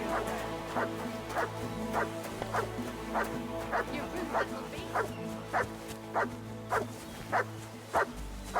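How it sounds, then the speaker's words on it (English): A dog barks in the medieval video game Kingdom Come: Deliverance II, with evenly spaced barks about every half second over a steady low hum and background tones. "Call back that dog"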